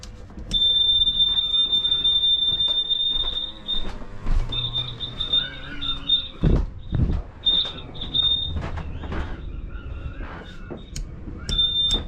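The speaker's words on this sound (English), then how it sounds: "It's triggering some kind of alarm" A high, steady electronic alarm tone, triggered by switching on a camper's water pump, beeps on and off over a low mechanical hum, with some clunks and knocks partway through.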